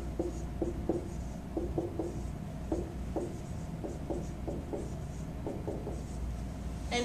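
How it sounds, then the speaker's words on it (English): A pen scratching out math equations by hand on paper, with short repeated strokes at a steady pace, faint and close over a quiet background hiss. "So we'll write our equations."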